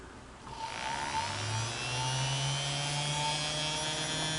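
A rehabilitated Singer 221 Featherweight sewing machine motor spins up and runs at a steady, smooth, fairly quiet hum, with a whirring tone that holds alone for several seconds.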